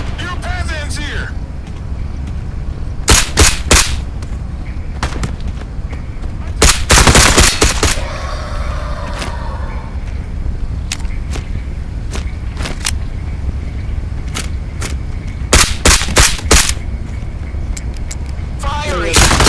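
Bursts of automatic gunfire in the VR shooter game Into the Radius come in several loud clusters separated by quieter stretches, over a steady low rumble, with brief speech in between.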